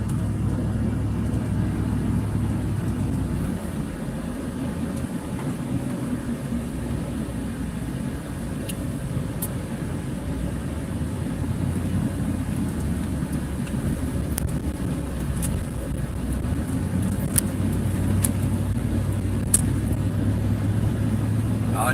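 A car drives along a narrow village road, steady engine and tyre rumble from inside the cabin with some wind noise and a few faint clicks, no talking.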